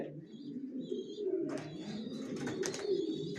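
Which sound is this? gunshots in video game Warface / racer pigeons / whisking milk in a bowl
racer pigeons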